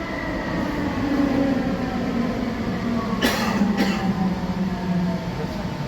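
Steady low rumble inside a moving train carriage, with a constant hum and rattle throughout and two brief sharp noises midway.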